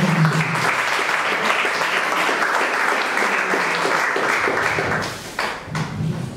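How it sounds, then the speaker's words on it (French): A crowd applauding steadily and loudly, a dense wash of clapping that holds for several seconds before tapering off near the end. "sous vos acclamations, s'il vous plaît"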